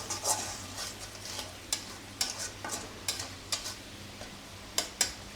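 Spice masala is stirred and fried in a pan over a soft sizzle, with a steady run of light, rhythmic spatula scrapes and taps close by.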